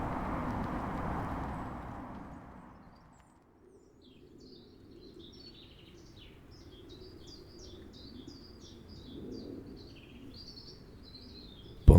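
Springtime birds chirping and singing faintly in a quiet outdoor setting, short repeated high calls coming through after a softer, muffled opening, with a sharp knock at the very end.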